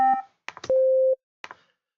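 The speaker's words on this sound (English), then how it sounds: "so we've got these two tones that we are playing" Two clean synthesizer tones from Ableton Operator sound together, then short blips and one sustained tone, alone and with nothing behind them.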